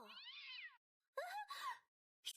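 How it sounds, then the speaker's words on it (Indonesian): A cartoon cat meows several times in an animated series, with a drawn-out first cry followed by two shorter wavering meows and a brief final squeak, clear and close with quiet gaps between. "Aneh, suara kucing dari mana ya?"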